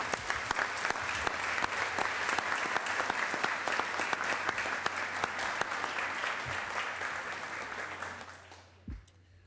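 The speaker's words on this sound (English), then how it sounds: "give him a round of applause" Sustained applause from a large crowd on a senate floor, steady and loud, with dense clapping that fades out near the end.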